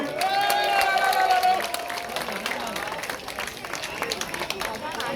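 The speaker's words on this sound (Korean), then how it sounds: "여러분 다시 한번 큰 박수 부탁드리겠습니다" Audience applause at a community cultural arts collaboration event in Namwon, a dense, steady patter of many hands filling the room after a brief voice at the start, with crowd murmur beneath.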